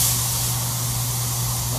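A SATA 1.0 paint spray gun, set about half a turn open with a wide fan at high air pressure, gives off a steady, loud hiss of air and spray with no pauses.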